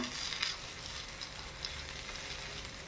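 Gandal leaf pitha sizzles steadily in a shallow layer of oil, a soft continuous frying hiss with faint crackles and no voices.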